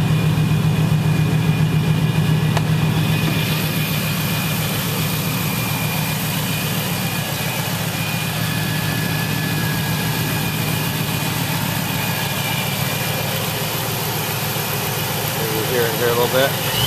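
A 2000 Chevrolet Camaro Z28 SS idles with its engine compartment open, a steady, close low rumble that holds unchanged throughout, with someone talking over it.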